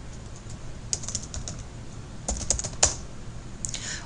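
Shortcut keys tapped on a computer keyboard in quiet, irregular keystrokes, a few sharper clicks standing out over low background hiss.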